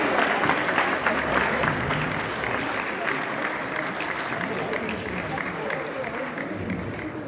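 Sustained audience applause fills a welcoming ceremony for women's football champions, a steady crowd of clapping hands that stays fairly even and slowly eases slightly in loudness over several seconds.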